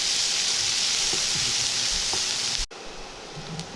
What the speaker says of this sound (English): followed by 1 cup of chopped onion. Saute till it gets translucent